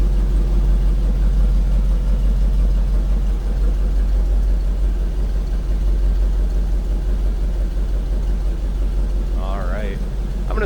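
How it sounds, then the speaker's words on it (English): A 1951 Chevrolet 3100 five-window street rod pickup idles with a deep, steady exhaust rumble close by, someone talking over it throughout. "Nothing crazy over the top or exhaust note, just a nice rumble."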